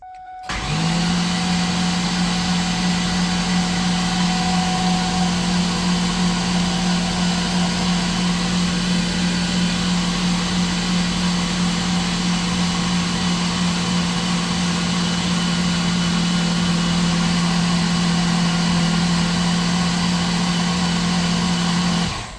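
A built Ford SVT Cobra engine starts abruptly and runs at a steady, even idle for over twenty seconds, loud and close with no talking over it.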